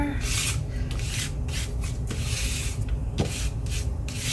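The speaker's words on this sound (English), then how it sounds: "This is ground espresso, and I'm just gonna rub a bit on." Ground espresso rubbed by hand across crinkled paper for a craft journal, a close, continuous scratchy rasp with rhythmic strokes about every half second.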